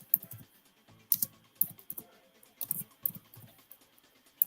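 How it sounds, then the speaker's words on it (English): Fast typing on a computer keyboard with uneven bursts of close clicky keystrokes, plus occasional heavier key strikes. Nobody speaks. "I'm over here typing in Lady D instead of Nicole"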